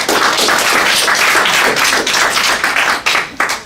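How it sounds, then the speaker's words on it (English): An audience at a Philippine Ruby Users Group meetup gives a sustained round of applause, dense close clapping that holds steady and then thins out into a few last claps. "let's give him a warm round of applause"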